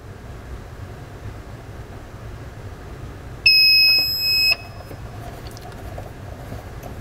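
A car battery load tester's timer gives one loud, steady electronic beep lasting about a second, ending a 15-second load test on a 12-volt car battery, over a quiet background hum.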